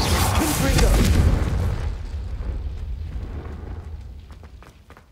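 A Confringo blasting curse in Hogwarts Legacy goes off as a loud, close booming explosion that peaks in the first second and a half, then rolls away into a long, fading rumble with scattered crackles.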